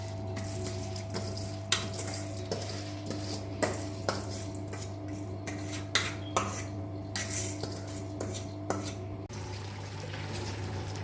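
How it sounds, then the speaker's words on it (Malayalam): Washed rice goes into a pot of boiling salted water for ghee rice, followed by repeated metallic clinks and scrapes of a spoon against the pot over a steady burner hum. "ഇനി കഴുകി ഊറ്റി വെച്ച ഈ അരി തിളച്ചുകൊണ്ടിരിക്കുന്ന വെള്ളത്തിലേക്ക് ഇടാം."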